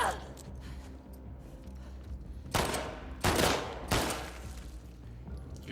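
Gunfire in The Last of Us Part 2 breaks through in three loud, sharp broadband bursts partway through, each ringing out briefly over a low game background with faint talk.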